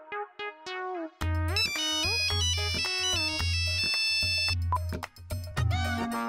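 A phone rings with a melodic electronic ringtone, playing loudly and alone, a repeating tune of bright tones over a pulsing bass pattern.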